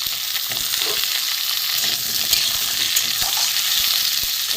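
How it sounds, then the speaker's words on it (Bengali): Potatoes frying in oil alongside pointed gourd for an egg dalna make a loud, continuous crackling sizzle with occasional stirring taps, close and unbroken throughout. "আলুটা একটু ভেজে নেবো ওর সঙ্গে।"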